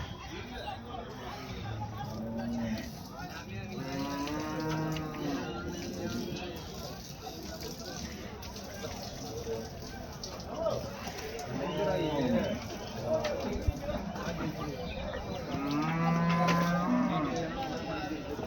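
Buffaloes low repeatedly at a busy Erode buffalo market, several drawn-out moos near and farther off over a steady crowd hubbub with voices talking throughout.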